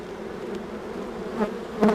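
Honey bees hum in a continuous drone during a spring hive inspection, near and fairly loud, with a couple of brief swells as bees fly close.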